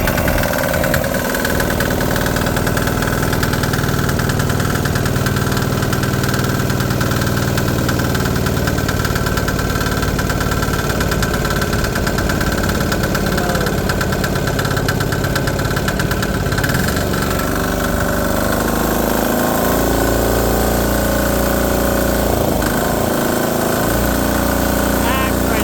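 A small 3HP 1.5kW generator engine with a new muffler idles steadily and loudly nearby, with a persistent rapid knocking rattle running through its drone the whole time.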